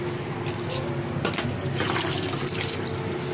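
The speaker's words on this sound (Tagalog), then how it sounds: "Haluan ko rin ito ng 2 tabong tubig." Water is poured from a dipper into a mixture of rice water and eggshell, a continuous splashing fill that runs steadily, close and fairly loud, with no voices.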